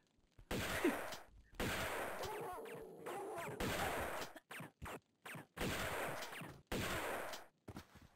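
Repeated bursts of gunfire from the Tomb Raider II Remastered video game, several long sustained volleys separated by short gaps, loud and with no talk over them.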